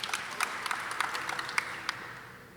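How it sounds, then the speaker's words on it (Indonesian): A congregation gives soft applause at a Christmas celebration service, a brief, fairly distant crackle of clapping hands that tapers off toward the end. "Beri tepuk tangan buat Tuhan."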